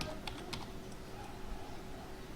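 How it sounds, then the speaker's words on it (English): Computer keyboard typing while entering an email address, a few soft, quiet key clicks near the start followed by faint room noise. "Suppose I am typing,"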